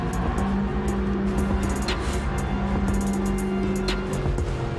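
A Nissan Skyline GT-R R32 in Gran Turismo 7 holding a steady, droning engine note at sustained revs, loud and continuous with slight pitch shifts, no voices over it.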